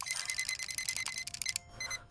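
A digital thermometer gives off a fast run of high electronic beeps, close and fairly loud, with no talking over them. A short gap and a fainter burst of beeps follow.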